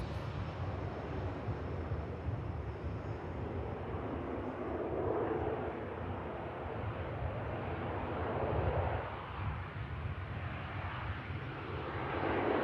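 Boeing Dreamliner pushing back at Manchester Airport, a faint, steady jet engine rumble and whine heard from a distance, broad and even with slight swells, no talk.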